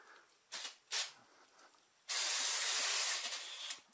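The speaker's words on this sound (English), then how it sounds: "I get the brake cleaner." A can of brake cleaner is sprayed during a front brake job on a 1996 Mustang. Two short hissing puffs come first, followed by a longer, steady close-up spray that lasts well over a second before cutting off.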